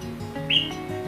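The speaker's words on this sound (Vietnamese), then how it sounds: "Thân hình thì nhỏ nhưng mà cái giọng hót rất là to" A small caged red-headed sunbird gives a single short, high chirp, clear but brief, over a faint low background hum.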